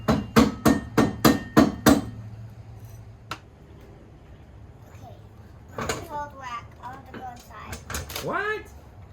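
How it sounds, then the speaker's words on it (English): A rubber hammer strikes a car jack during weight-reduction work on a Toyota Supra: about six rapid, loud, close blows, then a single later knock, followed by people talking. "Give me that rubber hammer."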